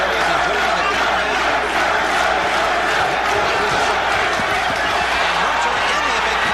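A large arena crowd roars continuously at a 1990 NABF professional boxing match, loud and dense throughout, with shouts, thuds and a commentator's voice mixed in.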